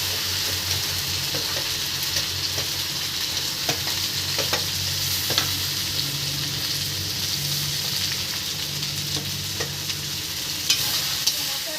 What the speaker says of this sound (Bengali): এরপর দিয়ে দেবো পেঁয়াজ